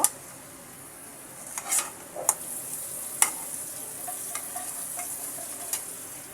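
Rohu fish head curry sautés in a pan with a soft, steady sizzle, broken by a few sharp scrapes and clinks of the spoon against metal as it is stirred.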